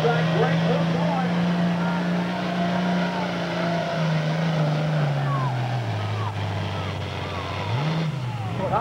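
A farm tractor from the super farm tractor class at a 2003 Shepardsville, Kentucky tractor pull roars loudly down the track, its engine pitch sagging as it bogs under load and then revving up again near the end, with an announcer talking over it.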